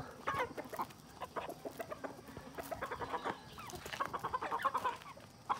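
A flock of backyard chickens in a Filipino coop clucking continuously in short, overlapping bursts, close and moderately loud, with busier clucking toward the end.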